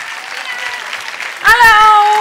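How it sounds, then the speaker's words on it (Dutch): Applause from a large crowd of children in a university lecture hall at a children's university event, a steady dense clatter that ends as a voice calls out a cheerful greeting over it. "mag ik voor jullie een heel groot applaus voor Dr."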